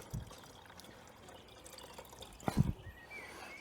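Water poured into a van's engine coolant system during heater matrix bypass maintenance: quiet trickling and dripping for most of the stretch, with a louder splashing burst near the end, no voices.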